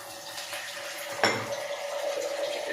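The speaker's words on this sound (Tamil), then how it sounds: "தண்ணி ஊற்றிப்போம்." Water splashes into a pot of thick tamarind curry with a sudden gush partway through, followed by a soft steady trickle and a faint kitchen clatter.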